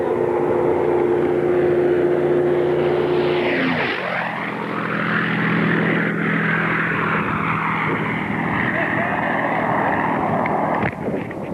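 A P-51 Mustang propeller fighter roars past at an air show, its engine note rising loud and close and then dropping sharply as it passes, followed by a sustained fading drone with steady wind rumble.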